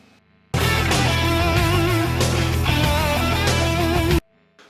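An original recording plays loud and dense, with sustained electric guitar over a full band for about four seconds, then cuts off abruptly into near silence.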